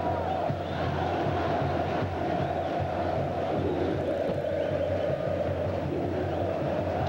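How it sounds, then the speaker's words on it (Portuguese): Fans at São Januário stadium roar and chant steadily during a 2003 Brasileiro match between Vasco and Goiás, a dense, loud crowd noise that rolls on without a break. "A torcida faz uma festa incrível."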